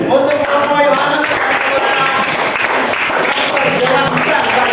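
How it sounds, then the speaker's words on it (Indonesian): A group claps steadily in a classroom setting, the applause dense and sustained throughout while voices mingle beneath it. "Kita tepuk tangan untuk kelompok Yohanes"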